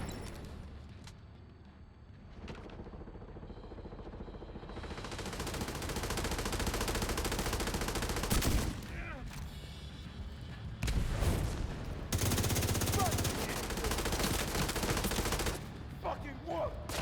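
Enemies open fire in The Division 2, with rapid bursts of automatic gunfire and sharp shots that build into a loud, sustained barrage with brief pauses, close and dense over game ambience.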